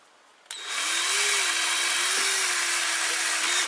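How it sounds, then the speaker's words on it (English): A power drill starts abruptly and runs for about three seconds with a loud, steady whine, its pitch wavering slightly as it bites into the material. "I know you can't see me, but you can hear the drill"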